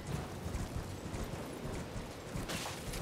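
Horse hooves clip-clop steadily while riding in Elden Ring on the way to the royal capital Leyndell, a continuous close rhythm of game footfalls with a brief louder burst near the end.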